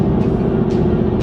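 A 2019 Mustang GT with a 5.0 V8, long tube headers and Solo exhaust revs loud and close, a deep steady engine roar with slight pulsing, no talk.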